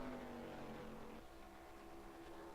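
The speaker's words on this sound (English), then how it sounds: "Hear that car off to turn number 3." A race car engine in the NR2003 racing game drones steadily as it heads into turn 3 at Daytona, its pitch dropping slightly partway through, faint and continuous with no talk.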